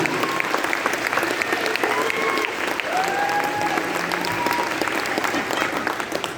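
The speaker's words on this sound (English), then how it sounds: "So huge round of applause for them on that, because that's impressive for any musician," A high school marching band's audience breaks into applause at a band awards concert, dense clapping filling the room for several seconds with faint cheers and whistles rising above it.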